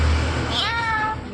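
A pet myna imitates a cat's meow, giving one clear, rising and falling mew close up that lasts under a second, with low background noise and no talking.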